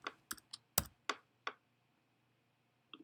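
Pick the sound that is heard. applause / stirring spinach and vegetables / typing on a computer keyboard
typing on a computer keyboard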